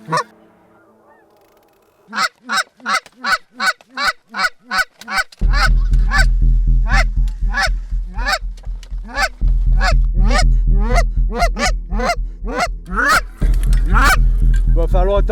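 Wild geese honking near a hunting blind, a rapid, loud series of honks that grows into a dense overlapping chorus, with a low wind-like rumble underneath for most of it.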